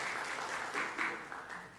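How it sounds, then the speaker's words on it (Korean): A church congregation claps to welcome newly registered members at a Sunday service. The applause is warm and continuous, swelling and fading slightly over a short stretch with no voices on top. "박영래 장로님 일어나시면 박수로 환영하겠습니다"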